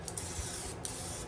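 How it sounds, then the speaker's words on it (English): Cooking spray hisses from an aerosol can into a 9 by 13 baking pan in two short bursts, a close broadband spray with a brief pause between. "We'll give it a light spray."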